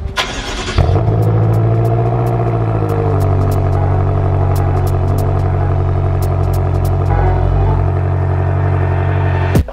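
BMW F10 M5 engine starting up with a sharp burst, then settling into a loud, steady rumbling idle and low-speed drive as the car is moved indoors, with occasional clicks and a final cutoff.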